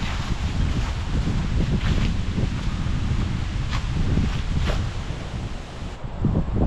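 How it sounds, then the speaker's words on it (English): Heavy wind gusts at Kaercher Creek Park in Hamburg, Pennsylvania, buffet the microphone in a constant, loud low roar and rumble, with brief hissy flurries over the top. "the gusts were pretty heavy"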